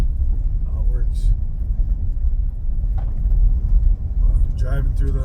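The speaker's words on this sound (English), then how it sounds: "I'm driving through the lease right now." Vehicle rumbling along at a steady pace through a hunting lease in Steuben County, upstate New York, the low engine drone continuous throughout with a few faint incidental knocks and voices.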